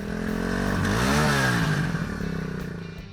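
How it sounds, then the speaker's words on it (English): A Suzuki 199cc air-cooled SOHC single-cylinder motorcycle engine runs close up, revving up with a rising buzzy tone, holding briefly, then dropping back, with mechanical clatter under the exhaust note. "Suzuki 199 cubic centimeter air-cooled"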